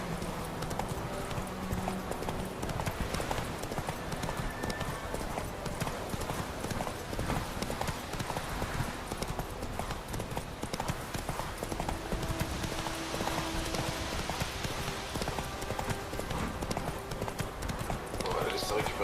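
Rhythmic clip-clop of a horse's galloping hooves in The Witcher 3 runs steadily throughout, with game music and a person talking over it.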